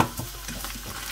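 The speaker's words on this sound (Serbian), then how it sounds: "meso polako ispustilo je vodu, isparila je voda, sad se polako pržava" Ground meat sizzling and frying in a pan for a skillet lasagna, a steady close crackle with brief stirring scrapes, no talking.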